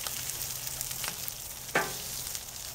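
Burgers sizzle on a griddle in a cooking video game, a steady close frying hiss with a few soft scrapes and one sharper clank partway through, no talking.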